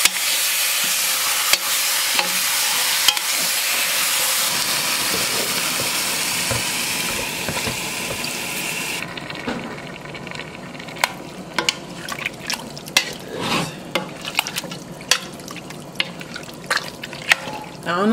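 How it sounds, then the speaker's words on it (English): A spoon scrapes and stirs curry goat in a pot, first under a loud sizzling hiss that cuts out partway, then as a run of distinct clinks and scrapes against the pot. "I'm gonna just stir it around."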